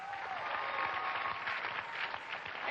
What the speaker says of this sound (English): let's have a round of applause for Mark